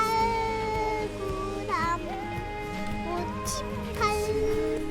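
A cat meows several times, rising and falling cries over steady background hum and faint sounds at a campsite.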